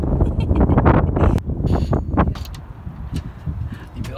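Gusty wind buffets the microphone in loud, rumbling blasts, easing off toward the end.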